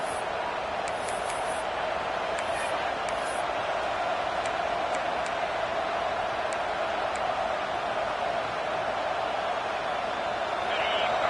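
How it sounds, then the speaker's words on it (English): Simulated stadium crowd in College Football 26, a steady wash of distant cheering and roar that holds constant throughout, with faint ticks on top and no clear commentary. "Listen to the crowd energy here in the early going."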